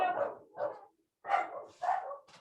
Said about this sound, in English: any board member who's got a dog who's not muted